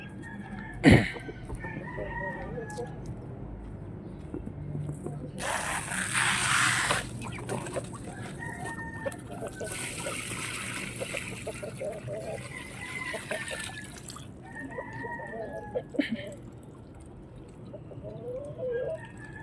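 Chickens in a large coop cluck and chatter while a rooster crows, with bursts of louder activity, a trickle of water nearby and a person talking at times.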